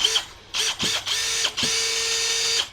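A DongCheng cordless impact drill, a DCPL04-5 driver, runs in several short loud bursts of whirring motor with brief gaps between, then one longer sustained run, close and alone.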